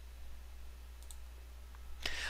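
Computer mouse clicks while customizing a dashboard layout in Alfresco Share: a couple of faint, quick clicks, then one sharper click near the end over a steady low hum.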